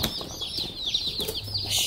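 Newly delivered meat-bird chicks in a shipping box give a dense, continuous chorus of high, overlapping peeps, close and fairly loud, with some soft rustling beneath.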